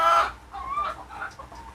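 Hill chickens, including a pair of naked-neck fowl, cluck close by in a short, loud burst followed by a few softer clucks, with no talking.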